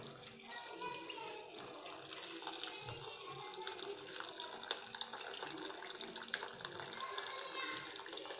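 Water pours steadily into a soup pot of vegetables in a cocotte, a continuous splashing rush that stays fairly close and even throughout.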